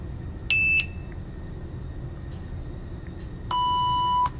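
Sharp electronic shot-timer beeps at an outdoor shooting range, a short tone near the start and a longer loud one toward the end, over steady low background rumble.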